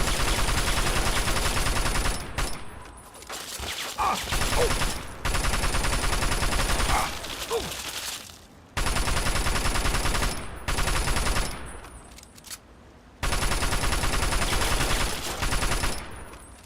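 A minigun fires in a video game in long, dense bursts of loud rapid gunfire separated by brief gaps, harsh and continuous across the clip.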